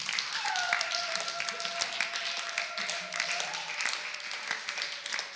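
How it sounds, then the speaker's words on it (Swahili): A congregation claps for Jesus during a Monday morning church service in Iyunga, with steady, dense applause lasting the whole stretch. A sustained voice tone rises over part of it. "Pigia Yesu makofi."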